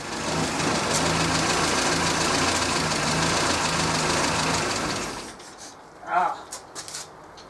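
A close, rough Morris Minor engine idle, running too lean, chugs unevenly for several seconds, then cuts out, leaving a brief quiet with a few small knocks.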